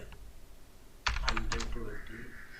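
Short bursts of computer keyboard keystrokes enter numbers into a Google Docs chart, a few clustered clicks close by after a quiet start, over a faint background hum.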